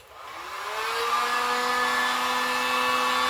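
A heat gun warms a broken plastic crank cap on a 1992 Raleigh Chill mountain bike: a steady, loud blowing whir that spins up over the first second and then holds an even, sustained hum.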